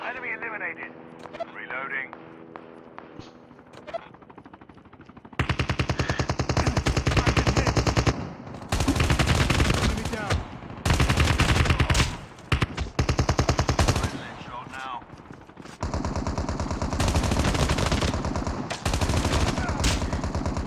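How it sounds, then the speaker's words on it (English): Automatic gunfire in a Call of Duty Mobile battle royale gunfight: long, loud bursts of rapid machine-gun shots in repeated volleys, broken by short pauses, with someone talking over the shooting throughout. "In the midst of a gunfight there"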